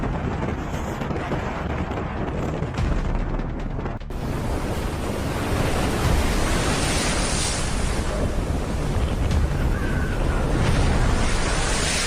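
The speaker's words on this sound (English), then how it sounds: "Winds howl at 111 knots, waves hammer the hull 9 meters high" Storm winds roar and heavy waves pound continuously against a ship's hull at sea, a dense, unbroken wash of surf and wind buffeting with no let-up.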